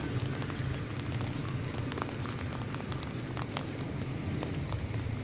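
Steady, dense patter of heavy rain pouring down continuously in Lahore, with scattered sharper drips landing on hard surfaces nearby.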